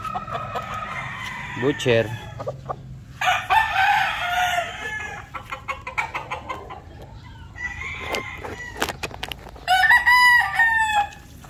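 Butcher gamefowl rooster crows several times close by, loud and drawn out, with clucking and other fowl calls in between.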